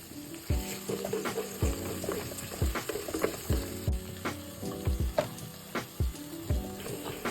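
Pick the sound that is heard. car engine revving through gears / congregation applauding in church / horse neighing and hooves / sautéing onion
sautéing onion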